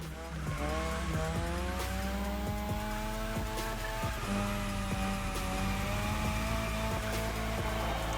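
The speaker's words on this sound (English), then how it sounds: "So after some more just drifting, which was quite the combo I had" Car drifting in The Crew Motorfest with steady tire squeal over a continuous engine drone, loud and sustained throughout, with rising and falling revs and a few brief breaks in the skid.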